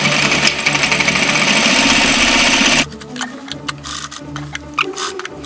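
A sewing machine stitches along the edge of petticoat fabric, running in a loud, steady, rapid whir for nearly three seconds, then stopping and giving way to quieter handling noises and faint short mechanical clicks.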